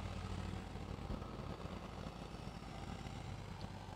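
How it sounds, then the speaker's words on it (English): Tractor rumbling past at a horse racing track at dawn, a steady low engine drone heard at moderate distance, continuous and fairly quiet throughout with no speech. "So I'm going to let this tractor go by real quick"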